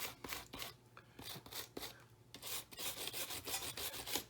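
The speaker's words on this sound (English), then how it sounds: "we're going to take our stainless steel brush here, and we're going to take it, we're going to brush" A stainless steel brush scrubs soldered joints on leaded glass, giving quiet, close, rapid scratchy strokes in an uneven back-and-forth rhythm.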